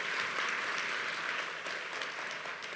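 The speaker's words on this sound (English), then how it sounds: "let's give all of our women a round of applause again here tonight" Steady applause from the audience honoring women at the Michigan Chronicle Women of Excellence Awards and induction ceremony, a dense, even clapping that fills the whole stretch without pause.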